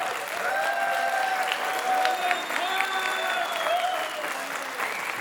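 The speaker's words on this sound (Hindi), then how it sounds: "मैं चाहता हूँ कि तालियों से ही शुरुआत कर दें।" A theatre audience claps at a stage show about Sardar Vallabhbhai Patel. The applause is steady and moderately loud, with a drawn-out musical or whistling tone layered over the clapping.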